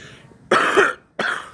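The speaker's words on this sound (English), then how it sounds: "sorry for coughing" Two rough, loud coughs from a single person, close to the microphone, separated by a short pause, with no talking around them.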